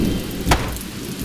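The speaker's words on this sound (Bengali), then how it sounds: "তোর বৃষ্টি তো থামেই না" Steady rain falling in a Bangla cartoon about rainy-season hardship, a dense close patter with a brief louder thump or splash near the middle.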